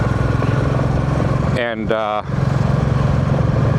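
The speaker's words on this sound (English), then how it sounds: "It's a Harley-Davidson, it's the one with the Porsche engine." A loud Harley-Davidson motorcycle fitted with a Porsche engine runs steadily throughout, with a brief dip in the middle where a voice speaks a word over it.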